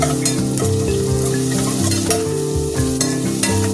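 Onions fry with green chillies for mutton keema curry, a loud close sizzle broken by repeated scraping stirs, with no voices.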